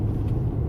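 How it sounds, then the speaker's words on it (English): Steady low rumble of car traffic passing through a neighborhood, continuous and fairly loud, with no distinct individual vehicles standing out and no voices. "So much traffic in my neighborhood today"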